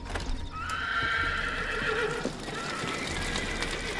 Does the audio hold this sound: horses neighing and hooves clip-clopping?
yes